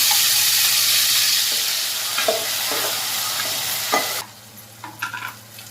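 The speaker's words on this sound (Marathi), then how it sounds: "मी मसाला परतून घेते" Masala for mutton curry sizzling loudly in a pan and being stirred, a dense continuous hiss with occasional spoon scrapes; the frying suddenly drops to a quieter sizzle near the end as stirring clicks continue.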